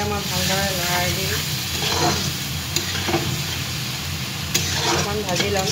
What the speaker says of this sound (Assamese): এতিয়া মই ভালদৰে লৰাই দিম